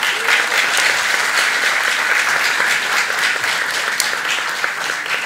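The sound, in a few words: audience applause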